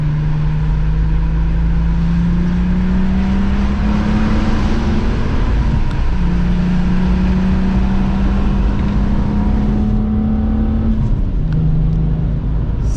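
A MK4 VW Jetta wagon with a 12-valve VR6 and a Remus muffler pulls hard in second gear, its deep engine note rising steadily under load from inside the car, with a brief dip before climbing again and then easing off.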